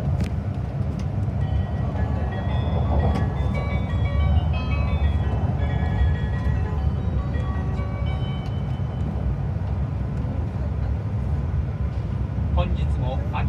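Steady low rumble inside an Akita Shinkansen Komachi bullet train in motion, a constant loud hum with faint tonal chimes and murmuring in the background.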